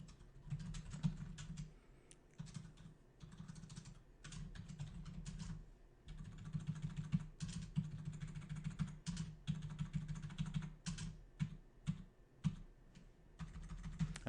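Steady typing on a computer keyboard during a networking lab, with quick bursts of close key clicks broken by short pauses, and no talking.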